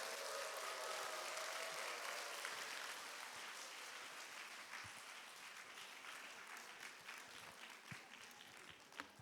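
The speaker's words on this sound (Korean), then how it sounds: "우리 미소천사 이성원 목사님 나오실 때 박수로 환영하도록 하겠습니다." A congregation at Ansan Dongsan Church claps to welcome Pastor Lee Seong-won to the front, a dense, fairly quiet round of applause that gradually thins and softens over several seconds.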